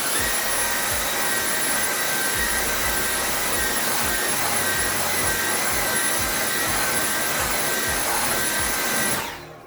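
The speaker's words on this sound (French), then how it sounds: "Le sable il est bien dans l'aspirateur et le tapis est bien propre." A vacuum cleaner roars loud and steady, sucking Mediterranean beach sand out of a carpet over several back-and-forth passes, then cuts off abruptly just before the end.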